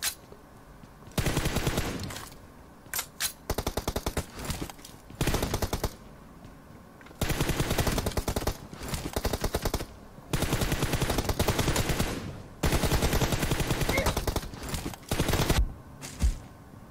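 Bursts of automatic gunfire in PUBG Mobile during a competitive 1v1 team deathmatch, loud and close, firing in repeated sustained volleys separated by short pauses.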